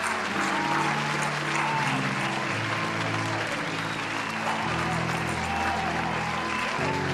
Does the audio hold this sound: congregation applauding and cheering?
yes